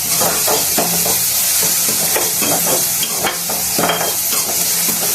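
Chopped onions for a bitter gourd curry fry and get stirred in a pan, a steady close sizzle with repeated scraping strokes of the spoon throughout, no voices.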